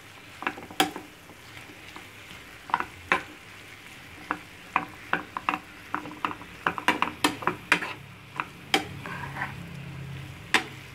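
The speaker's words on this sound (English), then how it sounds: "give your beef a nice stir of all the masalas and everything" A spoon scrapes and clacks against a small frying pan while beef is stirred with masalas, with irregular close taps and scrapes over a faint sizzle and no talking.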